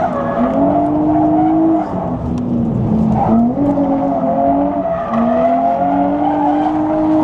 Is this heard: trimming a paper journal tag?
no